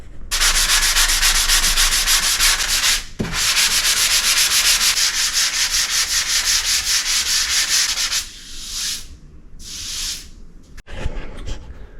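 Steady, loud rasping of sandpaper rubbed over a dried joint compound patch on drywall, continuous strokes for several seconds, then a pause and a few shorter, softer passes.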